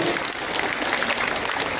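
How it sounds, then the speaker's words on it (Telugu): An audience at a gathering applauds loudly, a continuous, even burst of many hands clapping with no pause. "చప్పట్లు గట్టిగా."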